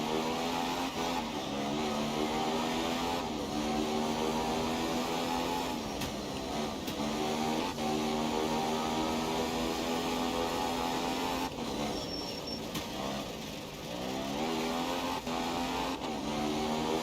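A Group 4 rally car in Assetto Corsa runs a 3.5-mile night stage in Kenya, its engine loud and continuous up close. The revs climb, drop back at shifts and lifts, then build again, and there is no talking.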